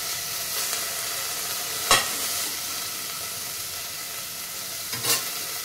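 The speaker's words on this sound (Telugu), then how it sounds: "ఇవి ఫ్రై అయ్యాయండి." Ingredients frying in oil in a pan give a steady, gentle sizzling hiss, with two brief scrapes or stirs standing out, close and fairly quiet.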